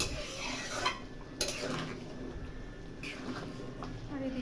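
A metal lid clatters onto a curry pot in a home kitchen: a few sharp clinks and knocks of cookware, fairly close, over a low background hiss.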